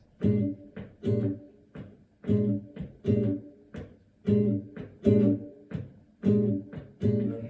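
Jazz guitar chords played in a bouncy Charleston rhythm, a long stab followed by a short one, repeating steadily and up close with no talking.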